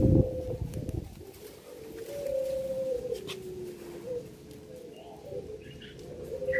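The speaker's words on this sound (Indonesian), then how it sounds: "tekukur clear pit putih polos mata hitam" A spotted dove coos in low, repeated phrases, fairly close and clear over a soft background hum with faint chirps from other birds.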